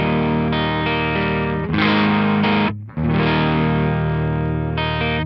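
A Carvin CT6 electric guitar with stock C22 humbuckers runs through a Wampler Tumnus overdrive pedal, playing loud, sustained, gritty driven chords, with a brief pause near the middle before the chords ring on.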